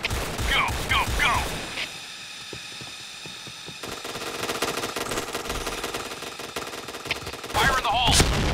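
Rapid bursts of AUG A3 rifle fire in the shooter game PointBlank, dense clattering shots running through the middle of the clip with game voice callouts at the start and end.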